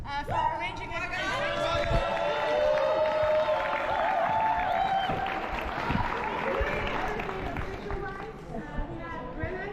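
Crowd applause at a roller derby award show after a Harbour Cup game, a continuous wash of clapping and chatter from a large audience, with voices and cheering over it.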